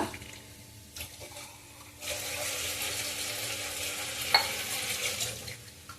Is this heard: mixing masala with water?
yes